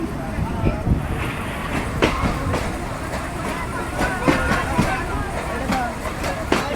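The Mahananda commuter train rolls into Jessore Junction station in Jessore, with steady rumbling and rhythmic wheel clatter on the rails under someone talking throughout.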